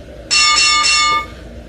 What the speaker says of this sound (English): I was trying to do 4 bells